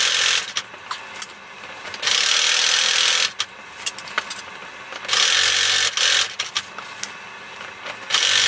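A sewing machine stitches the seam of a fabric basket in several short runs of rapid whirring, with brief pauses between each burst.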